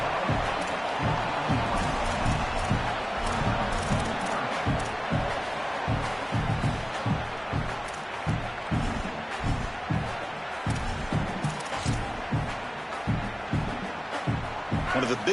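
A football stadium crowd in an NCAA college football game roars and cheers on third down, a sustained loud wash of noise with rhythmic surges, while a commentator talks over it.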